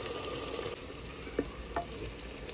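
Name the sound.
garlic ginger paste frying in pan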